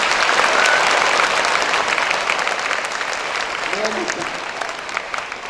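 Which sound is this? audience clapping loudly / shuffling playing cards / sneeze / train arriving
audience clapping loudly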